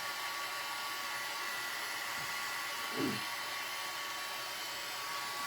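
Hair dryer blowing steadily at close range to dry watercolor paint on waxed paper, a continuous airy roar with a brief soft bump of handling noise partway through.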